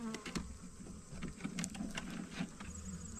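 A swarm of honeybees being shaken into a hive gives a faint, continuous low buzzing hum, steady and somewhat distant, with a few light knocks and rustles on top and no voices.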